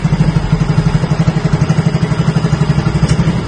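A motorcycle engine idles close by with a steady, rapid low putter and slight mechanical clatter, running alone without talk.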